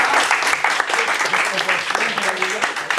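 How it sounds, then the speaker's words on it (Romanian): Audience applause at a children's talent show, loud, dense clapping filling the room, with a voice and some musical tones faintly underneath. "Haideți în aplauze"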